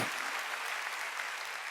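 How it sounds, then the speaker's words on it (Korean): A church congregation at a Sunday worship service claps loudly and continuously, a dense, even wash of hands with no speech over it. "박수 치려면 세게 치라고"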